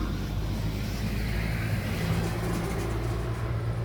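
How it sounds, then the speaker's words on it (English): A truck rolls past close by, a continuous loud low rumble with broadband road noise that holds steady throughout, no voices. "Truck coming by again."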